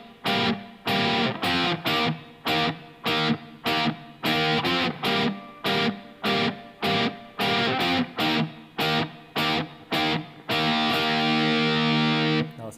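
A distorted electric guitar plays open, unmuted chords in a rhythm, loud chopped stabs in a driving pattern that end on a long ringing chord, with no voice.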